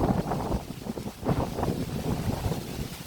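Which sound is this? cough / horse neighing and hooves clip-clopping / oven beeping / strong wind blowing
strong wind blowing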